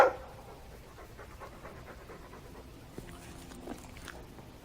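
A Mabari war dog from Dragon Age 2 panting steadily in quick rhythmic breaths with wet slobbering sounds, close and fairly quiet, with a faint voice briefly underneath.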